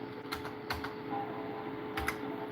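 A computer keyboard is typed on in a few scattered, soft key taps over a steady electrical hum and room noise, nearby but fairly faint, with no talking.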